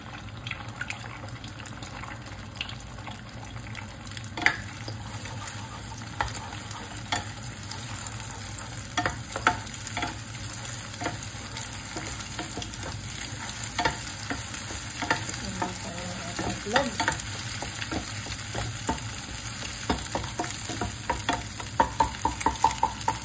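An egg fries in a pan with spinach, a continuous close sizzle and crackle punctuated by frequent clicks and taps from a utensil stirring and scraping through the pan.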